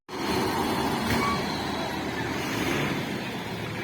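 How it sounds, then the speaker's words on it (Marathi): A vehicle speeds past on the road beside the Yawal bus stand, giving a loud, steady rush of road and engine noise that holds for a few seconds. "काय फास्ट गेली ती गाडी"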